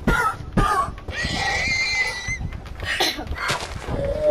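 Several loud Minecraft horse whinnies and snorts ring out in bursts, close and overlapping, with bright high-pitched squeals across the whole stretch.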